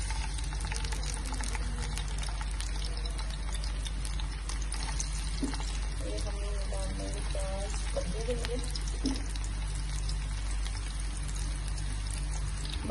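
Onions sizzling in a hot cooking pot, a steady dense crackling and hissing fry running throughout with a few louder spatters midway, fairly close and unbroken.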